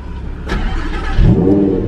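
A supercharged V10 sports car engine, a Lamborghini Huracán, cranks and catches, then settles into a deep, loud rumble that swells as it revs.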